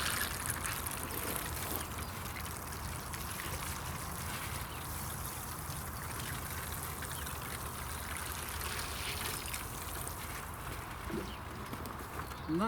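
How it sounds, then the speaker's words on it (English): Water trickles and splashes from a watering can over freshly planted peas in gutters, a steady soft shower of running water that continues for several seconds without talk. "The only one more thing to do, and that's to give it another quick watering."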